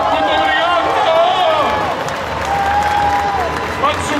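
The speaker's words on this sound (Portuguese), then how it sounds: "Palmas para todos eles! Palmas, palmas, palmas, palmas!" A large crowd at an anime convention concert, Anime Friends 2022 in Brazil, claps and cheers in a loud, dense, continuous burst, with whistles and shouts mixed in and a performer's amplified voice carrying over the top.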